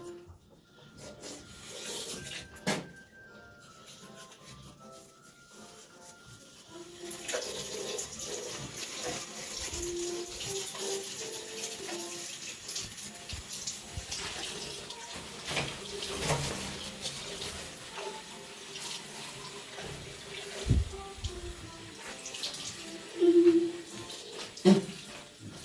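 A child brushes teeth with rapid rubbing scrubs over water running from a bathroom tap, a steady close flow that begins a few seconds in and continues under the brushing.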